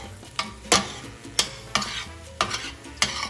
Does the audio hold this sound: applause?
no